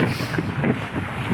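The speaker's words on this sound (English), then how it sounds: "And we're crossing this bridge and it's so windy." Strong wind buffets the microphone while crossing a bridge in Tromsø, a steady broadband roar with gusty swells and no pauses throughout.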